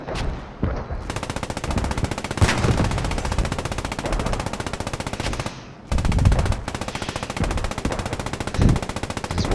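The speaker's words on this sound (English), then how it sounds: "There's Morpheus Elliot very wisely suppressing towards the enemy smoke there" Sustained machine gun fire in the Post Scriptum video game, rapid continuous bursts with loud impacts, briefly pausing near the middle before the firing resumes.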